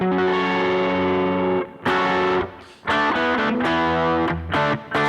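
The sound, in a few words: electric guitar part from a song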